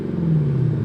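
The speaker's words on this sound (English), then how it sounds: "And let's get the sound of the exhaust." Exhaust of a 2026 Ford Raptor R pickup, a brief deep steady rumble, close and fairly loud with no speech.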